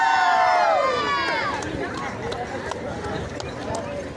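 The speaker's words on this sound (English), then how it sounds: "Keep it up, guys! Keep cheering up there!" A crowd at the Women's March rally in Riverside in 2020 whoops and cheers loudly, and the roar fades into excited chatter and scattered shouts.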